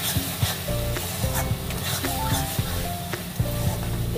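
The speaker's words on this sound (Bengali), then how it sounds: "কাজু বাদামের পেস্ট দেওয়া তাই মাঝে মাঝে এটাকে আমার নেড়ে দিতে হবে" Masala with cashew paste being stirred and fried in a pan: steady sizzling with repeated scraping strokes of a spoon against the pan, close and continuous, no voices.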